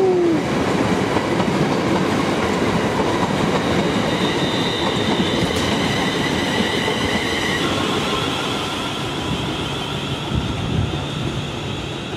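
A train pulls out of a platform at London Euston Station, a steady loud rumble of rail wagons with a faint high squeal and clatter lasting throughout, gradually easing away near the end.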